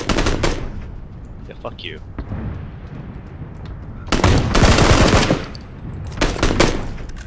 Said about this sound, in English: got pelted with bullets